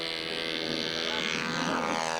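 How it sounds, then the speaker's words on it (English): A small model Cessna airplane's engine buzzes steadily in flight, a thin droning whine at moderate distance that rises slightly toward the end. "Flying a little Cessna."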